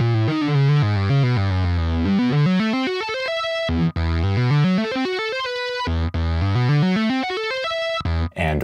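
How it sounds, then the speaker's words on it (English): Synthesizer lead played through an Archetype Nolly amp sim with no pre- or de-emphasis, a distorted, sustained line of rising and falling note runs that fills the clip loudly, with brief breaks between phrases. "this is what the synth sounds like by itself, just through the Archetype Nolly,"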